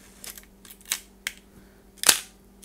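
A camera shutter fires at 1/1000 second, giving a few sharp, close mechanical clicks spaced unevenly across a quiet background, with no speech.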